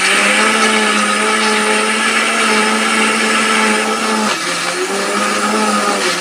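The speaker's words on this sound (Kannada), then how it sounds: "ಮಿಕ್ಸಿಗೆ ಹಾಕಿ ನೀಟಾಗಿ ರುಬ್ಕೋಬೇಕು ನೋಡಿ." A mixer grinder blends chilli chicken masala with water, a loud steady motor whine running continuously, briefly dipping in pitch near the end before resuming, with no talk.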